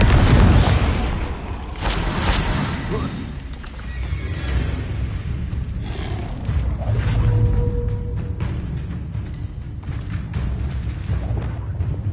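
A Confringo spell explosion in a Hogwarts video game lands as a loud, deep boom at the start, followed by rumbling combat noise and softer scattered impacts that trail off.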